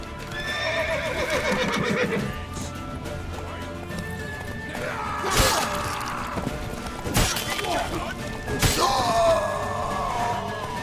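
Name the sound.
horse neighing in The Witcher 3 video game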